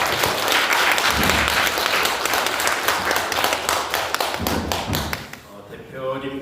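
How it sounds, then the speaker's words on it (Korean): Applause from an audience at a regional forum on conflict resolution in Jeju, dense clapping with sharp individual claps close by, fading out near the end. "한번 박수."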